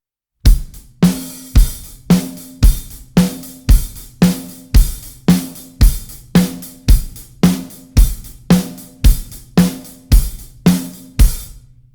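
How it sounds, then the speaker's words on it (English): A loud, steady rock drum beat with punchy kick drum hits on beats one and three, snare on two and four, and driving cymbals throughout. "we only do our kick drum on 1 and 3."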